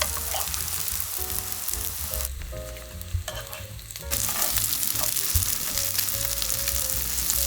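Thin Korean fatsia shoot pancakes (dureup-jeon) fry in a pan, a dense continuous sizzle that briefly drops during a handling pause, with faint low tonal hum and clatter underneath.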